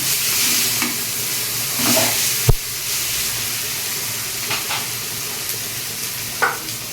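Garlic and spices tempering in hot oil with curry leaves for a tamarind kuzhambu, a steady broadband sizzle with a few sharper pops and crackles, close and continuous, no voices.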